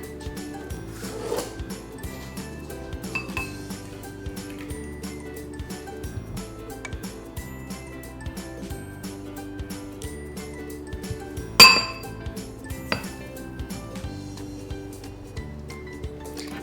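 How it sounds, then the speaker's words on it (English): A spoon clinks steadily against a cup as egg, milk, vanilla and sugar are stirred into single-serving microwave cake batter, with light rhythmic taps and one sharper knock partway through. "Now you just need to mix it up."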